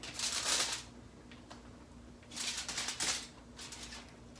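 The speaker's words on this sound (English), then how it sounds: "throw them in the plastic bag" Crinkly plastic rustling in two main bursts with a fainter third as roasted poblano peppers are dropped into a plastic bag nearby, no voices.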